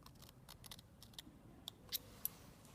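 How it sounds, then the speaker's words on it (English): Scissors snip fabric at the ends of stitch lines on a shirt sleeve placket, a few faint, sharp clicks spaced irregularly against a quiet background. "I'm clipping into the end of each of the stitch lines"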